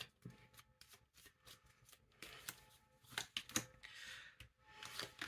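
Tarot cards being shuffled for a weekly reading, a quick run of crisp riffling and slapping bursts, close and fairly quiet, with no talking.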